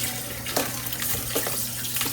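Tap water runs over raw chicken wings being rinsed in a sink, a steady close splashing stream with uneven spatters as the meat is turned under it.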